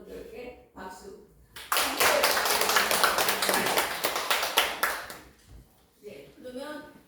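Seminar audience clapping on youth and senior jobs policy: a burst of hands applauding for about four seconds, loud and close, with a voice speaking briefly before and after.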